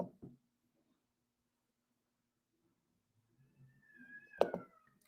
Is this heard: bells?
no